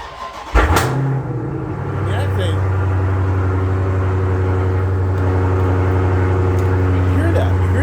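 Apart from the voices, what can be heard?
car engine exhaust note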